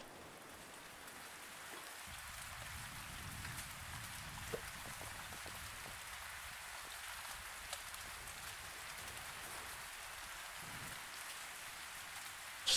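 Rainfall in the survival game Survisland pours as an even, unbroken hiss, steady and close, with a few small drop ticks and no talking.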